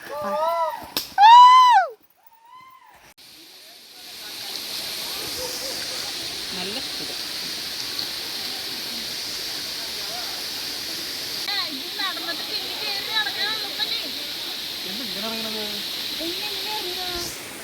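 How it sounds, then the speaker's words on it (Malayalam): After a brief voice, a steady rushing roar of a forest waterfall at Chimmini fills the scene, constant and full, with faint voices occasionally beneath it. "നമുക്കവിടെ വെള്ളച്ചാട്ടത്തിൻ്റെ സൗണ്ട് കേൾക്കുന്നുണ്ട്"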